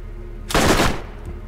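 A weapon in the Borderlands video game fires one short, loud automatic burst of about half a second, close and harsh, against quiet background noise.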